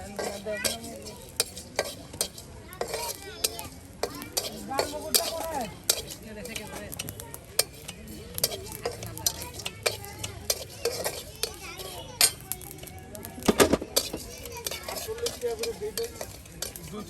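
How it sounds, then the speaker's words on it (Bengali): Cloves, cardamom, cinnamon, cumin and coriander dry-fry together in a pan for a village-style beef shank nihari, with repeated scraping and stirring clatters over a faint sizzle, fairly close. "এই যে এখানে আপনার লং, এলাচ, দালচিনি, তার সাথে জিরে ও ধনিয়া সস একসাথে কিন্তু আপনার ভেজে নেওয়া হচ্ছে"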